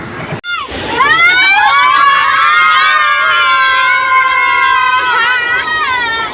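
Children shout and shriek loudly together aboard a train, a continuous high-pitched chorus of voices after a brief pause, carrying on for several seconds with little letup.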